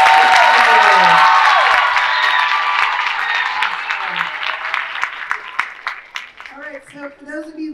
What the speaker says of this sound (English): please join me in giving a big round of applause to our amazing chorus and orchestra